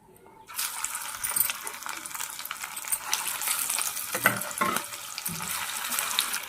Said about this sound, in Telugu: ఇప్పుడు మిగతాయి కూడా వేసేసుకుంటున్నాను ఇది ఆయిల్లో